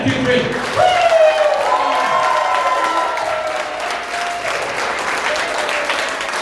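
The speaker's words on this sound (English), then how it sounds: "we just clap a lot" A church congregation at a Sunday service claps together in a sustained burst of applause with scattered voices and cheers, while musical tones ring faintly underneath; the clapping is lively at first and slowly settles.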